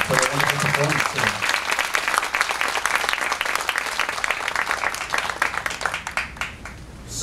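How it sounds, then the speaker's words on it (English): Sustained applause from a graduation ceremony audience for a student chamber orchestra after its performance, a faint musical tail fading at the start, then dense clapping that thins slightly toward the end. "let's give them another round of applause and thank you for their wonderful performance today"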